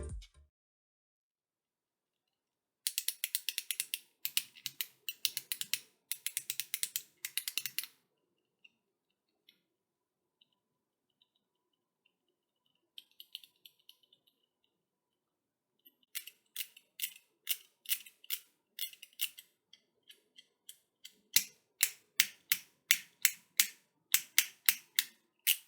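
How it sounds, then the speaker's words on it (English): A spring-loaded lever on a fidget pad snapping back into place, heard as bursts of rapid crisp clicks, close and fairly quiet, separated by silent gaps and without talk. "This one makes a satisfying sound when it snaps back into place."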